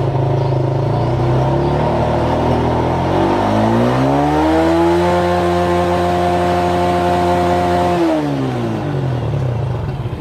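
Car engine revved slowly during a fuel pump pressure test, pitch climbing gradually, holding at a steady higher drone for several seconds, then dropping back toward idle, loud and close with no talking.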